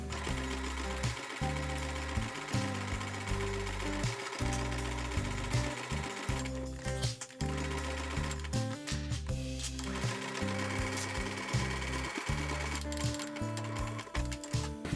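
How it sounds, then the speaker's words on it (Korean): Domestic sewing machine running a zigzag stitch to baste a pocket onto a tote bag panel, a loud steady mechanical whir with rapid rhythmic needle clatter, briefly pausing and starting again, no talking. "이 재봉틀의 지그재그를 이용해가지고 임시 고정하겠습니다."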